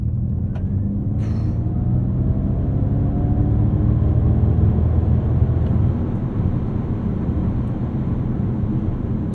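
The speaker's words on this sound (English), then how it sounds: "See how fast this Mach E decides it's going to get off the line at this very moment" A 2021 Ford Mustang Mach-E GT launching hard gives a steady low rumble and a rising electric whine, heard from inside the car with a faint squeak early on and no talking.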